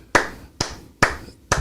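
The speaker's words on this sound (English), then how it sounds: "Let's give him a slow clap." Four slow, evenly spaced hand claps ring out alone, sharp and close, each separated by a short pause.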